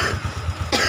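A man coughs, a couple of short rough coughs close to the mic during a roadside discussion of a Honda Supra 125 FI motorcycle's charging fault, then a brief burst of noise at the end.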